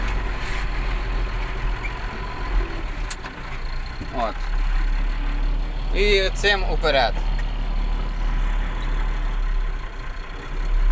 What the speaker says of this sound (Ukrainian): Звук похожий на роботу Д260-го двигуна.